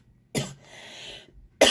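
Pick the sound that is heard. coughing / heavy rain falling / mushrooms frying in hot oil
coughing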